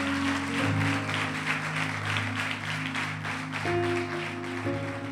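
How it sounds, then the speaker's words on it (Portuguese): A church congregation claps in praise, dense steady applause filling the room throughout, mixed with sustained organ or keyboard chords and some voices underneath. "uma salva de palmas para Ele"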